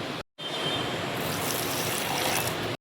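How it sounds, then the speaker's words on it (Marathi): Water poured into onion masala for mutton, a steady rushing trickle after a brief silent gap, continuing evenly and fairly close for a couple of seconds. "आणि पाणी थोडंसं घालणार आहे याच्यामध्ये"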